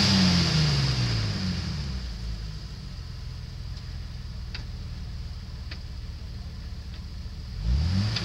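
A car engine revs and drops away as the clutch engages, the pitch sweeping down at the start and rising again near the end, with faint ticking through the steady middle.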